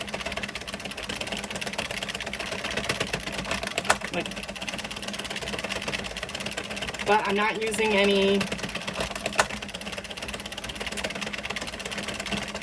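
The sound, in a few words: Addi Express Kingsize knitting machine knocking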